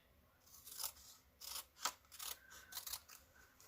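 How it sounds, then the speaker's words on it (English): Scissors snip through embossed, textured paper while pieces are cut for a collage, giving several close, crisp cuts in uneven bursts over a quiet background. "I'm going to cut a piece of it off."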